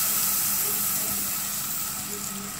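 Red palm oil added to a cooking pot, giving a steady, fairly loud hiss and sizzle that holds evenly throughout with no talk.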